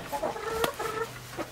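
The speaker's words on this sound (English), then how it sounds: "But she likes chickens." Chickens cluck softly and intermittently nearby, a few short calls against a low background, with no speech.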